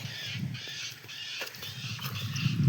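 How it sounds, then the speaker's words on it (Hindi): Several birds chirp and call over a steady outdoor hum from a running water pump motor on a farm, with busy high-pitched calls throughout and a low rumble beneath. "यहाँ पर चिड़ियाँ बोल रही हैं बहुत सारी"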